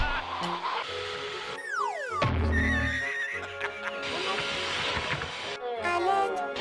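A broken inflation blower filling a pool with giant inflatables makes strange squealing, whinny-like noises with swooping pitch slides and rough bursts, fairly steady and moderately loud throughout.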